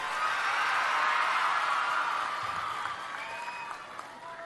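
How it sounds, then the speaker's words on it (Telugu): A crowd at a public gathering in Rampachodavaram claps loudly in a sustained burst that eases slightly toward the end, with faint cheering and voices mixed in. "పడ్డాయంటే గట్టిగా చప్పట్లు కూడా రంపచోడవరం మొత్తం వినపడాలి"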